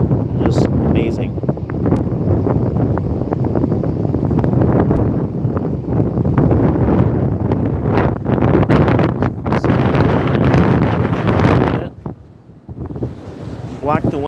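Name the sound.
wind blowing at the beach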